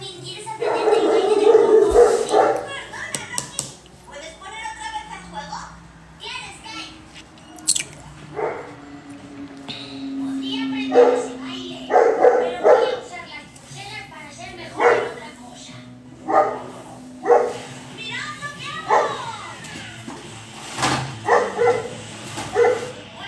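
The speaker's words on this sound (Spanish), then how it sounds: "El perro pues que estará pasando a alguien." A dog barks repeatedly in the background, a series of sharp, moderately distant woofs spaced a second or two apart, while a person talks over them.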